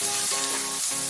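Steak flash-frying in butter in a hot pan gives a loud, steady crackling sizzle that runs without a break, with no voices over it.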